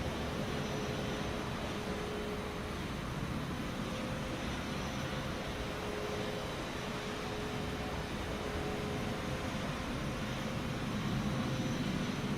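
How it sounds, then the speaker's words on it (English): Airbus A320 taking off in Microsoft Flight Simulator, a steady loud jet engine roar with broadband rumble and a faint tonal whine running throughout, alone without voices. "Let's just align it to the runway and hopefully we'll have a nice smooth takeoff."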